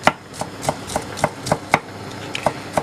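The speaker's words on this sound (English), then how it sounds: "And then just chop that up finely" A knife chops crushed ingredients finely on a board while Thai-style salmon with pak choi is being cooked, giving about ten crisp, evenly spaced taps at a steady rhythm, close and clear, with no talk.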